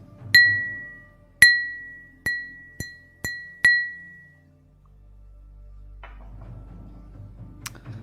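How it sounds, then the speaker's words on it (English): A glass beside a water bottle is struck six times in a quick, uneven series of bright, ringing clinks, each decaying cleanly, followed by a low hum and faint background noise. "That's the sound of the glass."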